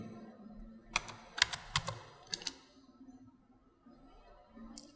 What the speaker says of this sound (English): Click E on your keyboard.